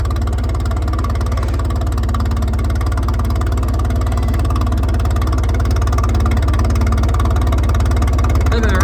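An Allis Chalmers tractor engine idles low and steady while climbing a grade at a steam show, a continuous close rumble with no break throughout.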